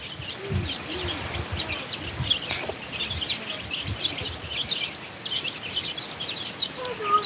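Backyard chicks with their mother hen taking a dust bath, soft clucks and high chirps scattered irregularly over a faint outdoor background, fairly quiet and close.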